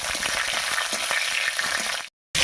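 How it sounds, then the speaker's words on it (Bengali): Green chili frying in hot mustard oil with dried red chilies, panch phoron and bay leaves, a steady close sizzle that cuts out briefly near the end before resuming. "ফোড়নের সঙ্গে কাঁচা লঙ্কাটাও হালকা ভাজা হয়ে গেছে"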